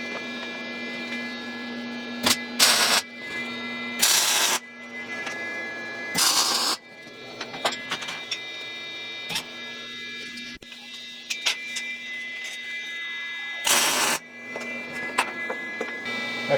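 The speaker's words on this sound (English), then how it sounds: "Now I'm ready to weld it all together." Welding up a steel transmission mount for a TF904 to 46RH swap, with several loud bursts of crackling arc sizzle lasting about a second each, set against a steady electrical hum and buzz in a shop.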